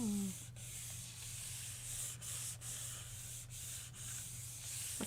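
Paper being rubbed by hand for frottage during gelli printing, a steady close scratchy rubbing with periodic strokes over a low constant hum.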